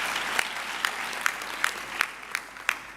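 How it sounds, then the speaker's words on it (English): A graduation ceremony audience at the University of the Free State applauds, a soft, moderately distant clapping with a few sharper claps standing out at regular intervals. "let us put our hands together for a round of applause for Mr. Temba Dlamini."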